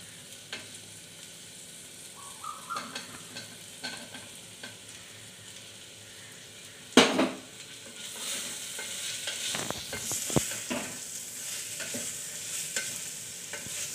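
Marinated prawns frying in a pan for a prawn pulao, a steady low sizzle with stirring clatter, a sharp loud scrape near the middle and louder broadband frying afterward.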